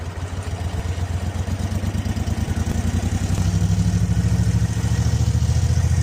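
An old Moto Guzzi motorcycle engine thuds steadily while it is ridden, and its pulsing beat rises in pitch and loudness partway through as it pulls through the gears.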